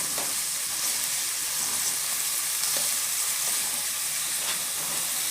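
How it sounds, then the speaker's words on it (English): Peppers and onions fry in a pan with a steady close sizzle and hiss, while a spoon stirs them with faint scrapes and clicks throughout, no talking. "We're going to stir them just for a couple minutes."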